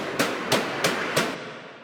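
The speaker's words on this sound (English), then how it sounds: "So it's just built off this Ragga shotgun." A Ragga shotgun sample from a drums pack fires four evenly spaced, sharp blasts over a noisy, gritty wash, each with a bright crack and a short rumbling tail, then cuts off abruptly.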